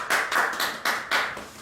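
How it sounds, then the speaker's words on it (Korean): Scattered audience applause at a talk on learning and success, a few soft separate claps in an uneven rhythm, faint and brief with no talking. "이럴 때 여러분 응원의 박수 보내주시지 않으시겠습니까?"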